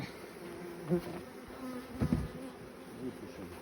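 Honey bees buzzing around a hive frame in an apiary at the end of the season. A steady close drone rises louder in short swells as individual bees pass near, with no talk.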